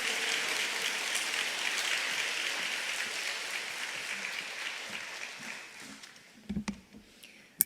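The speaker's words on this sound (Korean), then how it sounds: "우리 박수로 환영하면서 우리 약사님 모시겠습니다." A church congregation gives sustained, dense applause to welcome a pharmacist guest speaker, a full even roar that slowly thins and dies away, followed by a few scattered knocks and movement sounds in the hall.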